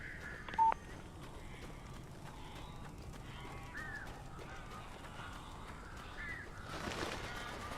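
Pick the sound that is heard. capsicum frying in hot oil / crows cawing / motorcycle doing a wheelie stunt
crows cawing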